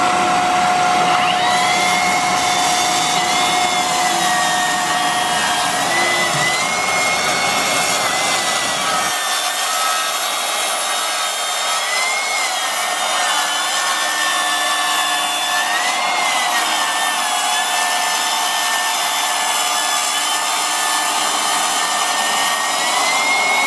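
A Milwaukee power tool cuts steadily, close and loud, with dust-extraction suction roaring under it the whole time. A low rumble drops out partway through and the cutting keeps going alone.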